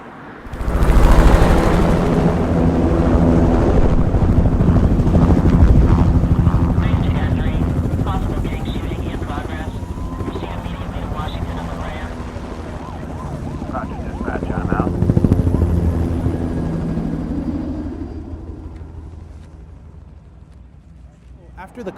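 A helicopter with a spotlight thunders loudly overhead at the 6th Street Bridge in Los Angeles, its rotor roar swelling, fading slightly, then surging again before slowly receding into the distance.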